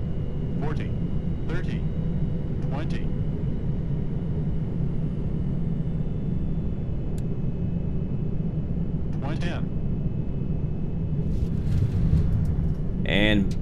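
Boeing airliner engines in a flight simulator video game, heard as a steady, loud broadband roar that runs the whole time, with a few brief clicks and a short rise near the end.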